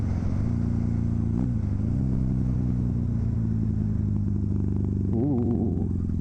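A Kawasaki KZ400 tracker motorcycle on knobby tires runs steadily while being ridden, its engine droning continuously with a brief rise in revs near the end.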